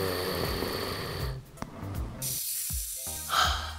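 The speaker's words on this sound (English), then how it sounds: "Snoring is a noisy, rattling sound occurring during sleep." Snoring sound effect with rasping, rattling breaths and snorts, a few irregular pulls of air followed by quieter gaps and a sharp snort near the end.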